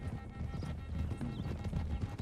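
Horses gallop in Red Dead Redemption 2, a quick, steady clip-clop of hooves over rough ground at moderate distance, with a snort or whinny faintly mixed in among the running.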